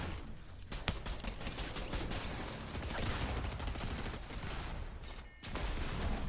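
Video game gunfire, with rapid, loud bursts of automatic shots rattling continuously and a brief pause near the end.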